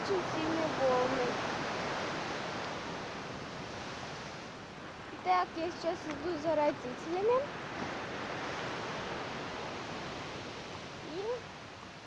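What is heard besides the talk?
strong sea waves on the shore near Sochi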